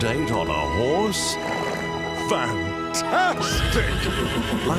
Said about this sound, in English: Arriving for a hot date on a horse?